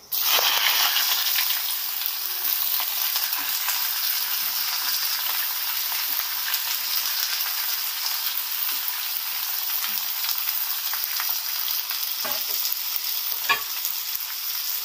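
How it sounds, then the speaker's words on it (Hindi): Chopped onions fry in a pan for Mughlai white chicken korma, a loud, close, continuous sizzle with a few sharp scraping stirs near the end and no talk. "अब जो कटा हुआ प्याज है हम इसमें कटा हुआ प्याज डाल देंगे"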